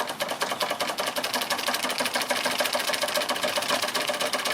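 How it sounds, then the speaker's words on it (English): Doll 364 series model steam engine running under steam pressure, a fast, even, mechanical chuffing and clatter close to the microphone, steady and continuous with no talk. "Here's my new dial steam engine running under pressure."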